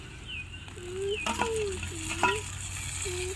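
Mutton paya being stirred and sautéed in a frying pan, a steady scraping and sizzling with a few sharper knocks, with faint chirping sounds in the background.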